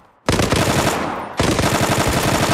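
Rapid automatic gunfire in the online shooter Zula, two loud sustained bursts separated by a brief dip, close and dominant.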